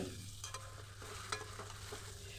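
Spices stirred with small mourola fish in a pan over low heat: a soft steady sizzle with scattered light scraping strokes, quiet and continuous, no voices.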